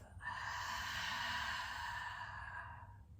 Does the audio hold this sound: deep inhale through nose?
yes